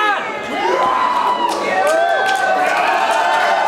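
A wrestling crowd cheering and shouting at a GWF Berlin Championship match, a dense, loud, continuous roar of voices with whoops and rising yells filling the arena.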